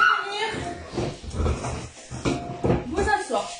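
Dogs whimper and yip in short whines indoors while a person talks over them, the whines rising and falling between the speech.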